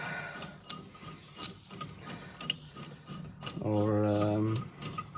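Ratchet work loosens a fitting on a VW Transporter T5 wheel during a wheel bearing job, quick rhythmic clicking of a ratchet followed by a brief louder buzzing whir of a power tool, fairly close.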